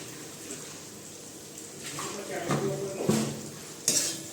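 Spices being stirred into a pot of pointed gourd and potato curry, with a spoon scraping and clinking against the metal pot in a few short bursts over low kitchen background noise.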